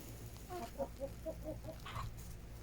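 Backyard chickens cluck softly in a winter coop on an off-grid homestead, a short run of low, close clucks followed by one louder squawk, with no talk over them.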